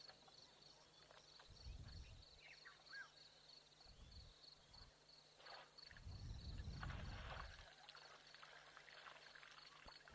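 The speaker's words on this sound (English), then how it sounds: "Listen to them splashing in the water. You can also hear them sucking up the water" Elephants at an African wildlife watering spot splash and suck up water in irregular soft bursts, with a quiet background between them and no speech.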